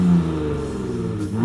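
A pickup truck engine, either a Ford F-150 Raptor or a Ram 1500 TRX off-road truck, revs in a steady, loud mid-pitched drone that swells upward in pitch at the end.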